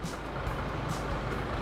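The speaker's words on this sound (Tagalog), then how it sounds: "Ito yung truck na mangongolekta ng mga debris." A City of Manila DPS debris collection truck idles nearby, its steady low engine rumble filling the street with a brief hiss at the start and again near the end, amid broad traffic noise.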